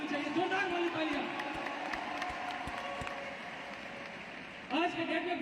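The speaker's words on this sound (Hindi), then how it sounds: "मैं ऐसे पावर हाउस के लिए जोरदार ताली चाहूंगा" Large crowd at Lucknow's Ekana Stadium applauding and cheering during a celebration event, a broad, continuous roar of clapping with a voice talking through it and a fresh swell of noise near the end.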